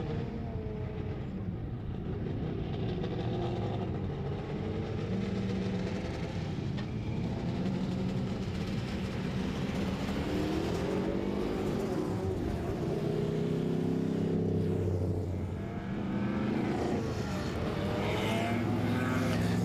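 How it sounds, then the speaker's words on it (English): Group S racing cars running on track at a festival of speed, with a steady, continuous engine roar whose pitch rises and falls as the cars pass, heard from a distance the whole time. "Group S cars out on track."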